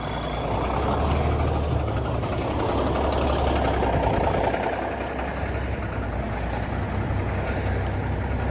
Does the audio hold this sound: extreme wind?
no